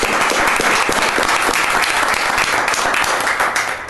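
An audience at a city council meeting in Eden Prairie applauds with dense, sustained clapping throughout, loud and close, fading slightly at the end.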